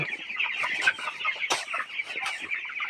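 Broiler chickens on a poultry farm of about 1200 birds make dense, continuous clucking and chirping, with overlapping calls from many hens nearby and no talking.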